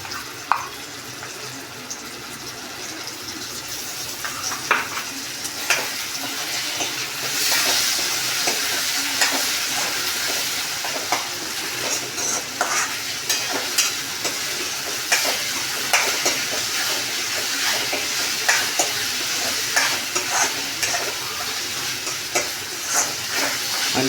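A paste of ginger, garlic, green chili, coriander and dried coconut fries in a pan for a home-style chicken curry, sizzling continuously while a spoon scrapes and stirs in irregular clattering strokes, close and fairly loud, with no talking.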